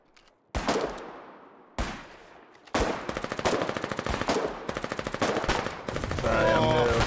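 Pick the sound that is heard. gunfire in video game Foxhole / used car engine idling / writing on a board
gunfire in video game Foxhole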